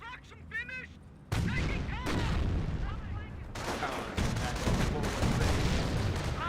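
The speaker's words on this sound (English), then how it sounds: "Landmine does get detonated." In Company of Heroes, a landmine detonates with a sudden loud boom that gives way to a dense stretch of battle noise and gunfire, with a voice and game chatter briefly heard before the blast.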